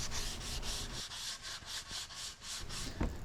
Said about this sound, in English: I then got some 220 grit sandpaper and just smoothed them over by hand